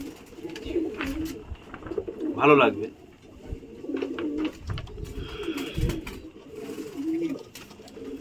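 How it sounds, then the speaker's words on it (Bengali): Pet pigeons coo in soft, repeated low calls, near and moderately loud, with someone talking over them throughout. "তো আজকের আরেকটা পায়রা শখ করাই। পায়রাটা দেখুন"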